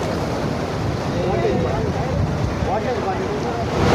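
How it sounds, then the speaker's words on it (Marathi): Fast, heavy floodwater rushing along the Meena river, a loud continuous roar of churning water with wind buffeting the microphone, sustained without pause. "पाणी मोठ्या प्रमाणामध्ये वाहत आहे"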